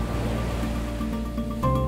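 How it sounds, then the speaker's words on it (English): High-powered air pumps in a wave pool blast and release pressurized air to push water, producing a loud, continuous rushing surge of churning water with a low rumbling roar throughout. "to push and pull on a column of water, which generates waves in the pool."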